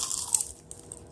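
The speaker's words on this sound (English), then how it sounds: "Listen for the crunch." A bite into a crisp fried cheese lumpia gives a sharp, close crunch, followed by a few smaller crackles as the wrapper breaks.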